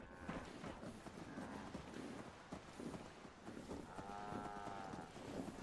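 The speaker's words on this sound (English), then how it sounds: "Look at all these moo-moos under here." Cattle mooing inside the video game Satisfactory, several moos rising over a dense, busy wash of factory machinery and game noise, one longer low call standing out near the end.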